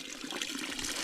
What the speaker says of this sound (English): This bubbles out of the ground right there, guys.